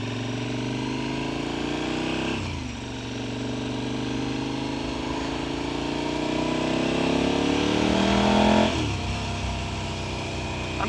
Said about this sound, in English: This LC8 engine is so smooth, it's ridiculous.